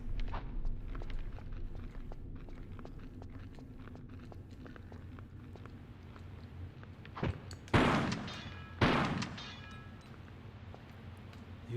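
Two loud shotgun blasts from the Tomb Raider: The Last Revelation video game, close together near the end, each with a sharp crack and a short decaying tail, over steady game ambience and soft footstep-like taps.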